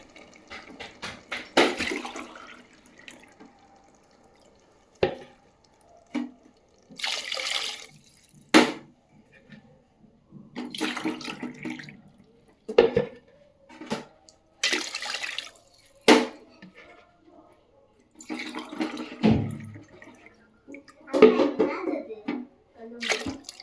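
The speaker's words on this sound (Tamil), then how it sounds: "நாலு கிளாஸ் தண்ணி ஊற்றிருக்கேன்." Glasses of water poured into a cooker of rice, repeated splashing pours in separate bursts with pauses between them, close and fairly loud, plus a few clinks of glass.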